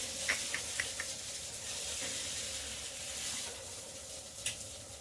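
A ready-made omelette fries in oil in a pan in a home kitchen, giving off a steady, soft sizzle with a few faint pops and clinks, close and unaccompanied by talk.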